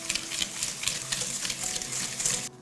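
Melted butter and sugar stirred together in a bowl, a steady scraping and swishing that repeats in quick strokes, close by, and breaks off at the end.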